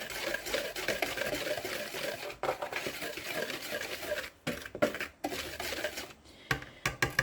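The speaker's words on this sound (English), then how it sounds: "Make sure you whisk it really, really well." Whisking bouillon powder and cornstarch together in a bowl, a continuous close scraping and rustling stir with a few brief pauses and knocks, no talking.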